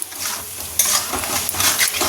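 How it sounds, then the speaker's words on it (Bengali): Tomato sauce is stirred into a pan of cooking pasta filling, a soft, continuous wet scraping and sizzle with a few light clinks of the spoon against the pan. "একটু টমেটো সস, ভালো করে মিশিয়ে নিই।"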